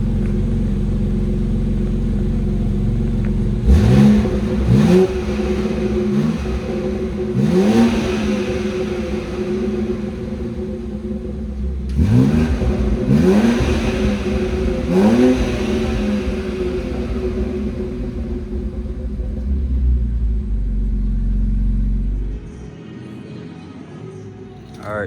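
A BMW X3M with its stock exhaust is revved several times, first with the exhaust valves closed and then open, each blip rising and falling over a steady idle before the engine shuts off.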